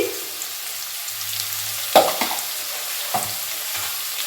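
Potatoes and onions fry in a pan as salt is stirred in, a low steady sizzle broken by a few close scraping stirs of the spoon, with no talk.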